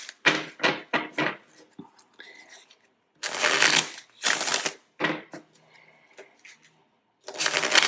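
A deck of playing cards being shuffled nearby, several quick riffling bursts separated by short pauses and soft handling noises.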